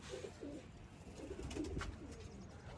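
A pet pigeon coos softly a few times, faint and somewhat distant, with soft rustling and low background noise around it and no talk.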